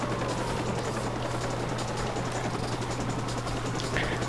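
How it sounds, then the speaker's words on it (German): Steady low rotor drone of a helicopter hovering overhead in the Watch Dogs game, a constant loud hum with broadband wash and no speech. "Und schon wieder der Helikopter über uns."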